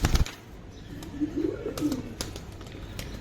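A brass-coloured pigeon gives a single rolling coo in the middle, framed by sharp clicks and handling knocks near the bird.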